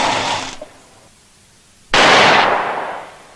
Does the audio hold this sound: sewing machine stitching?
no